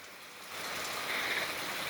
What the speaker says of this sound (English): It's raining too much.